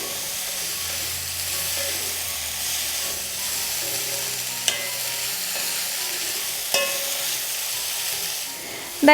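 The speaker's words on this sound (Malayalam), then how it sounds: "ചെറിയ രീതിയിൽ ഒന്ന് വഴറ്റിയെടുത്താൽ മാത്രം മതിയാവും" Capsicum being lightly sautéed in a frying pan for a curry, a steady close sizzle with occasional scraping clicks from stirring, continuous and unbroken by speech.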